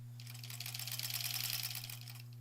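A sewing machine stitches quilt sashing for a granny squares quilt, running in one fast, continuous burst of rapid needle strokes close by, starting and stopping cleanly over a low steady hum.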